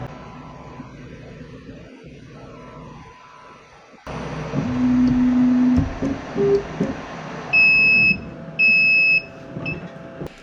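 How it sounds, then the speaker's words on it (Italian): A Flying Bear 5.5 W CNC laser engraver returns home after finishing a job, its motors whirring before a few short high electronic beeps ring out in separate bursts. "Quando termina torna in posizione home, emette un segnale sonoro"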